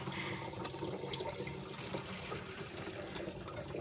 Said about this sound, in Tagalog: Ayan, tingnan nyo yung takbo ng tubig.